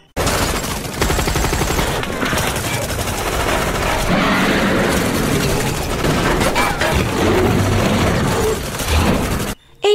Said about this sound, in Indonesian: Tiba-tiba ada tembakan.